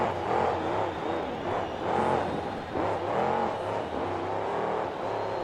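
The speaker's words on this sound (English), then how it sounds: "Loudest truck in the tour by a wide margin. Believe the only truck with zoomy headers as well." A monster truck engine with zoomy headers revs hard at a 2009 arena event in Atlanta, Georgia, roaring loud and close in repeated throttle surges with no talk over it.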